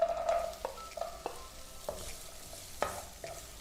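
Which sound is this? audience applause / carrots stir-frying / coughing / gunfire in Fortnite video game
carrots stir-frying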